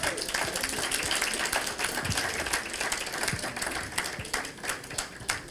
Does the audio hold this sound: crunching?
no